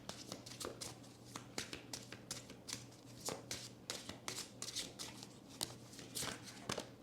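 Tarot cards being shuffled by hand in a steady run of crisp riffling snaps and slaps, close and fairly quiet over a low steady hum, with no talking.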